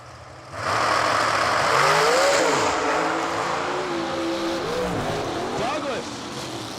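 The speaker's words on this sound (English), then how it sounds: "Douglas spins the tires a little bit off the starting line, and Kyle Cotrera takes advantage" Drag racing cars at a New Year Nationals event roar off the starting line, with one car spinning its tires. The engines are loud and sustained and their pitch sweeps up and down.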